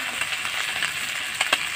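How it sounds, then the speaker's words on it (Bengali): Small fish fry in a pan with slit green chillies and chopped garlic, giving a brief, steady close sizzle with a couple of sharper crackles. "এখন আমি ছোটো মাছগুলো দিয়ে দিচ্ছি"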